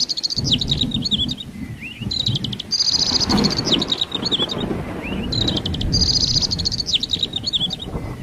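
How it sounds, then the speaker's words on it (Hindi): Loud, busy bird chirping with repeated bursts of high trills and tweets, over a constant hum of insects and low rustling background. "बाकी पक्षी उसे घेर लेते हैं और जोर से चहचहाहट करते हैं।"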